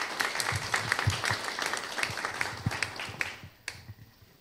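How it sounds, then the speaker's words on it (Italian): An audience applauds at a signing ceremony for a memorandum of understanding between Unpli Nazionale and Lions Club International, a steady patter of many hands clapping in a room that thins out and stops near the end. "Tanto un applauso."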